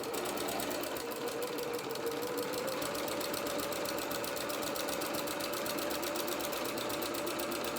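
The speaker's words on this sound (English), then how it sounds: "we're going to zigzag down this side all the way down to the bottom" A sewing machine runs a continuous zigzag stitch along a lined curtain, a steady close mechanical whir with a rapid even needle rhythm that holds at constant loudness throughout, no talking.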